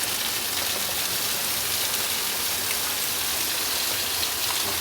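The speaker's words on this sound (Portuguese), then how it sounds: "Rapaz, que chuva." Heavy rain pours down steadily, a dense, even hiss of water on surfaces filling the whole stretch without pause, fairly loud and close, with no one speaking.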